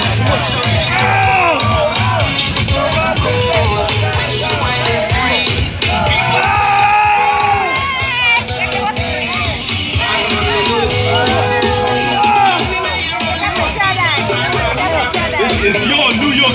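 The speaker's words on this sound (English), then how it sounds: "y'all gotta scream loud" At the Brooklyn West Indian parade, a large crowd screams, yells and whoops, loud and close, with voices rising and overlapping in a dense, sustained roar.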